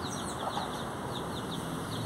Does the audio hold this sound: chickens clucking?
yes